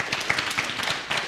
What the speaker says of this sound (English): could I get a warm round of applause for Justin